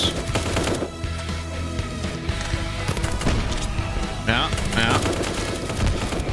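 Rapid bursts of automatic gunfire and sharp shots rattle through a Dreadzone video game trailer against zombies, dense and loud, layered over a driving musical score with occasional heavier impacts.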